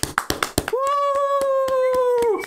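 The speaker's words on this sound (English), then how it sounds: "Doesn't really clap when you're holding a stress ball, does it?" A few dull, muffled claps from hands holding a cube-shaped stress ball, quick taps in a short burst, then a sustained whoop-like voice with a steady tapping rhythm under it.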